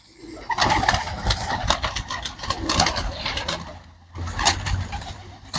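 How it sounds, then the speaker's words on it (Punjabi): Flying pigeons coo steadily in a loft, with soft rhythmic calls and some wing and movement noise close by, continuing almost throughout with a brief dip before resuming. "ਇਹ ਸਾਰੇ ਸਾਰੇ ਉੱਡਣ ਵਾਲੇ ਕਬੂਤਰ ਨੇ"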